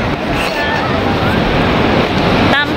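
Ocean surf rolls onto Taipa beach in a loud, steady roar mixed with wind buffeting the microphone, and faint voices drift in at moments.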